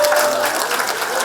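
Audience applause from a crowd, a steady dense burst of clapping for the whole short span.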